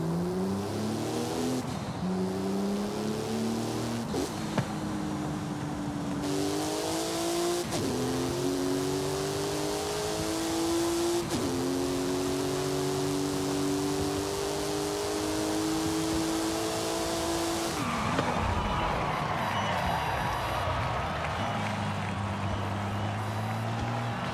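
A car in Forza Horizon 5 revs and shifts through gears, its engine whine climbing and dropping again and again, with tire skidding near the end, loud and continuous.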